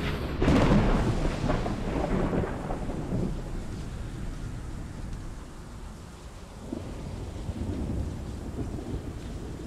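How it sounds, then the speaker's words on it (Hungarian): A lightning-striking magic spell in Conan Exiles unleashes a loud, booming crack of thunder that rolls into a long, rumbling, stormy wash with rain-like hiss, heard without speech. "Ez meg azt hiszem a villámcsapkodós."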